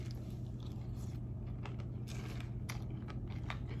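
Someone eats cereal with warm milk, giving soft, irregular crunching bites close to the mic over a steady low hum, with no talk.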